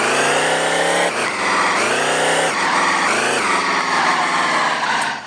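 A car engine revs hard as the car drives off, a loud, close, high-pitched whine rising and dipping through several gear changes over about five seconds, with no talk.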